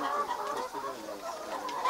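Criollo and red hens cluck repeatedly in a close, busy flock, their overlapping mid-pitched calls continuing throughout.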